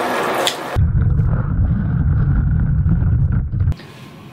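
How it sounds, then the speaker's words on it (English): Cold water runs from a bathroom tap into a tank, a steady loud gushing stream that starts abruptly and stops after about three seconds, with quieter room noise on either side. "So I'm just putting cold water into this."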